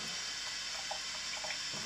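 Cold water running from a tap to mix with rabbit skin glue for icon panel work, a steady, soft splashing stream throughout, quiet and close, with no voices.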